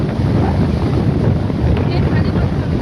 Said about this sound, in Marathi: मस्त वारा सुटला एकदम बघा